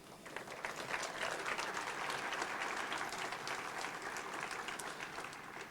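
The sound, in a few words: audience applause at business breakfast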